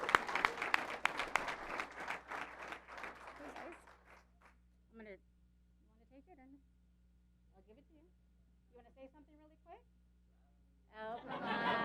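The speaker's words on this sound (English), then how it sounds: "So give them a round of applause, please." Dense applause from a crowd at a city council meeting honoring youth sports champions, loud for the first few seconds and then giving way to voices talking over a steady low hum, with another burst of clapping at the end.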